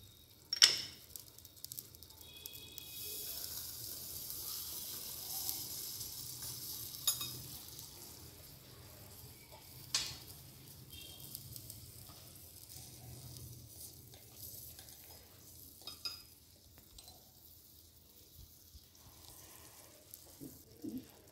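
Tomato ketchup sizzles in a miniature frying pan on a tiny kitchen set, a soft steady hiss with faint stirring scrapes and a few small clicks, quiet and close.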